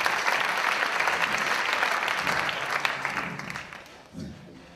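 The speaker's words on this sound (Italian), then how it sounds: "Edoardo, Davide, Luca, Giulia, Jacopo, un grande applauso." Audience applause greets students at the close of a pop music school show, a steady dense clapping that fills the clip and tapers slightly toward the end.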